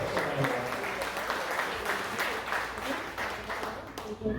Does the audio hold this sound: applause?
yes